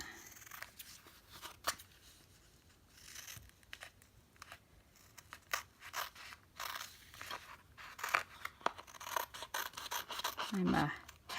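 Scissors trim a vintage quilt square made of fabric washi tape, with irregular short snips and crinkly rustles close by, some louder than others, under low background noise.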